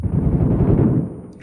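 Molotov cocktail thrown in the mobile game PUBG Metro Royale, heard as a loud, sustained fiery burst of roaring low rumble lasting over a second, then fading with a faint click at the end.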